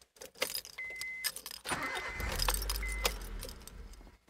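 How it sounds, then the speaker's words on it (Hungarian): Keys jingle and clatter, then a 2001-2005 Honda Civic petrol engine, with its intake manifold partly removed during a fuel filter change, cranks and catches for a moment with a low rumble before cutting out. "És még be is indult az autó egy pillanatra"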